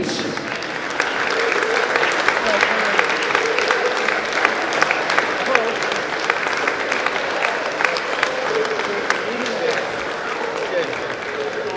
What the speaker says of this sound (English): a massive round of applause for your finalist, Mr. Phil Leeds